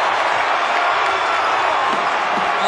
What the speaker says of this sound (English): Angel Matias brings the crowd to its feet